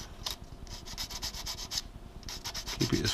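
Rhythmic back-and-forth sanding strokes scrape close up on a plastic scale model part, a series of short rasping passes with a brief pause midway.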